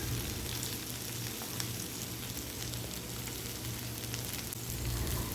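Prawns shallow-frying in a pan for a prawn roast, a steady close crackling sizzle that runs throughout with soft clatter as they are turned over, no voices.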